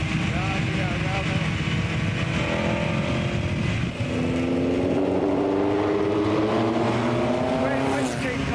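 A 1959 Cooper-Climax racing car with Stirling Moss at the wheel, its engine droning loudly and steadily with a rising pitch after a brief dip, as if accelerating through a gear; a voice speaks over it.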